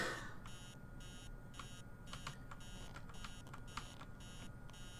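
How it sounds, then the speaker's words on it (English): An alarm clock rings inside the horror video game Emily Wants To Play Too, a steady electronic beeping pattern repeating in regular bursts over a constant low background hum. "Okay, alarm clock. Dumb alarm."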